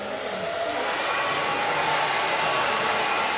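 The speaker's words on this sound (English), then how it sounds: "if you put your thumb on the base of the blow dryer, it helps you push it back and forth." A blow dryer runs steadily and loudly while drying hair, a constant close rushing whoosh of air with no talking.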